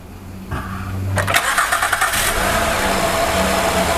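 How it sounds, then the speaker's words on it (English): A 2011 Honda Odyssey V6 engine cranks and catches, briefly revs, then settles into a steady, smooth idle close by. "We're just going to do a confirmation startup, make sure it's idling nice and smooth"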